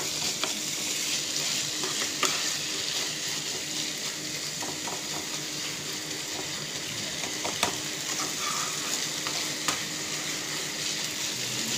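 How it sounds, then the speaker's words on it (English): Masala paneer filling is stirred in a hot pan, giving a steady, close sizzle of frying with occasional sharp clicks and scrapes from the mixing spoon throughout. "we give it a light mix for the masalas to get themselves into the paneer"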